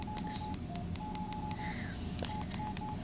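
A very basic mobile phone sounds a quick series of short electronic keypress beeps, a few steady tones at a single pitch with brief gaps, over a constant background hiss and murmur.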